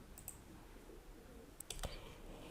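Computer mouse clicks on a web hosting dashboard, a couple of faint, sharp clicks spaced apart against a quiet background hiss.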